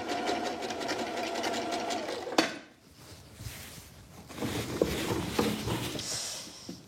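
An old domestic sewing machine runs in steady bursts, its mechanical whir and clatter fairly close and continuous at first, then pausing briefly before resuming in shorter stretches.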